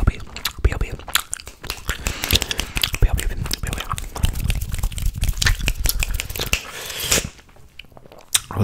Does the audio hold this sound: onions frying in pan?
no